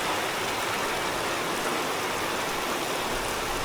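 Heavy rain falls without letup and rainwater runs in small streams beside a cyclist's route toward Greece, a constant broadband rush close by, with no talking.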